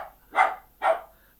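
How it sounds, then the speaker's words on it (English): A dog barks twice indoors, two sharp evenly spaced barks close by, with no speech over them. "And the dog's barking as well."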